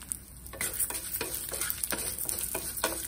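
Toor, chana and urad dal dry-roast in a pan, stirred in a quick series of close scraping, rattling strokes over a faint sizzle, with no talking.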